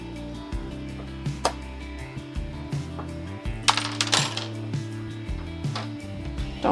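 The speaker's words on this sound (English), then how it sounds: "Just going to take out all of these screws." Small metal screws taken from a Bambu Lab filament box clink and rattle one after another in short irregular taps, close and fairly quiet, with light mechanical clicks and no talking.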